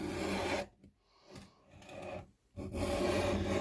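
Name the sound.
diamond file filing back of Spyderco knife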